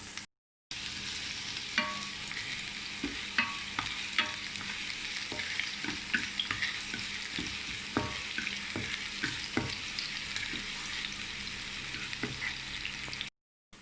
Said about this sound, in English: So the oil already heat up, so I'm going to add in the onion and also garlic. Fry it until it fragrance.